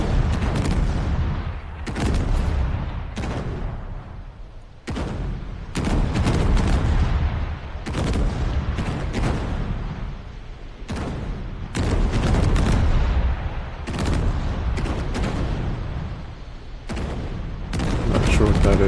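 Ship guns firing automatically in the naval combat game NavalArt, loud repeated booming salvos in irregular bursts with short gaps, a voice speaking at times under the gunfire.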